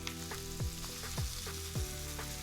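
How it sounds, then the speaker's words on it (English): Ground pork frying with doubanjiang chili paste for soupless tantanmen, a steady close sizzle with three soft scraping stirs at regular intervals, no voices. "And then you want to add the ground pork."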